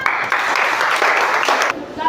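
Schoolchildren in a classroom applauding together, a dense, even burst of clapping that holds for under two seconds and then cuts off.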